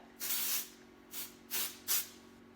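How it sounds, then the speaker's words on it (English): Four hissing bursts of aerosol texturizing spray onto hair, one long spritz followed by three shorter ones, close by with a faint steady hum underneath. "I just take a little bit of my Unite Texturizer spray"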